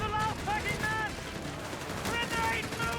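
Rapid gunfire and grenade blasts from a Company of Heroes 3 battle crackle in dense bursts while a commentator talks over the din.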